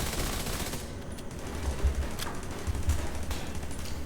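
Automatic gunfire from an in-sync FAMAS rifle in The Division 2, sustained rapid bursts on a shooting range with a turret active nearby, moderately loud and steady throughout with no talking.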